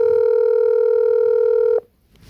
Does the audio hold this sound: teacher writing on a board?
no